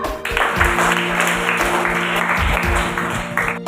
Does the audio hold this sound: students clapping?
yes